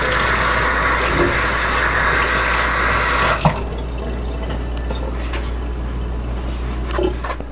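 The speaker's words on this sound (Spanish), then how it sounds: "Añade agua caliente, pero no añadas mucho agua." Hot water pouring into a bowl of flour while making burrito dough, a steady loud rush of running water for about three and a half seconds that stops abruptly, followed by quieter faint kitchen clatter and small drips.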